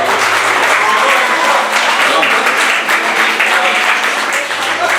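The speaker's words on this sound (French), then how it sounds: "Vous pouvez applaudir hein," Steady, dense applause from a party crowd at a club's 25th and 26th anniversary celebration, loud and continuous throughout with voices faintly audible underneath.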